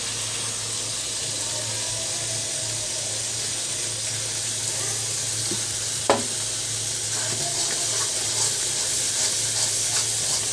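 A steady, hissing sizzle of a blended chili and onion paste frying in hot oil, with an occasional soft scrape and knock of a utensil.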